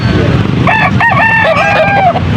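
A rooster crows once at a Pampanga cockfighting-rooster market, a long wavering call over a steady murmur of crowd noise and voices.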